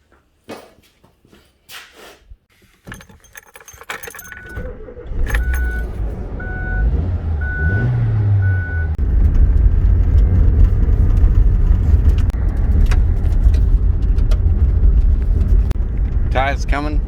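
A car door and keys clatter close by, then an engine turns over and catches, and the car pulls away into a steady, rising road rumble that fills the cabin, with a voice speaking briefly near the start.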